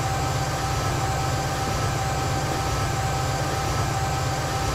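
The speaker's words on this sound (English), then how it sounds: "I wonder what it sounds like when it's just being sort of a train going past." Amtrak GP40-2 diesel locomotive in the Transport Fever game, a steady low engine rumble and rolling rail drone holding constant throughout, with no breaks or distinct clatter, moderately loud.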